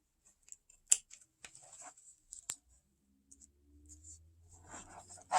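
Scissors make sharp, scattered snips while trimming lace trim for a Victorian lace wall hanging, with irregular clicks and quiet pauses between them. A faint low hum comes in near the end.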